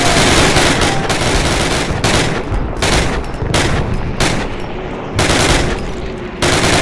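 Dense, continuous gunfire from Call of Duty 1 on Hardened difficulty, with rapid machine-gun bursts and overlapping rifle shots in a loud, near fusillade, broken only by brief gaps.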